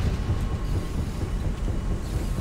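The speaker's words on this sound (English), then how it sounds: "there's a freaking fan up there, dude" Large fan whirring in a zero-gravity area of the game Dead Space 2, a dense continuous low rumbling drone with a gritty mechanical texture, steady and fairly loud with no speech.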